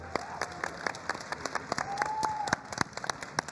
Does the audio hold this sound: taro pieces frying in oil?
no